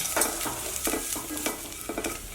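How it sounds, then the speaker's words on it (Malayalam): Fresh coconut and curry leaves are sautéed in a pan, a close sizzle broken by quick rhythmic scraping stirs repeating about every half second, with no one speaking. "ഇതൊന്ന് നന്നായിട്ട് ഒന്നുകൂടെ നന്നായിട്ട് ഇതുപോലെ വഴറ്റിയെടുക്കാം"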